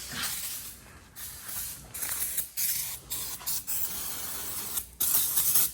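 Brake cleaner sprayed onto engine parts during a Cummins ISX15 diesel engine rebuild, heard as repeated close hissing bursts of aerosol spray separated by short pauses.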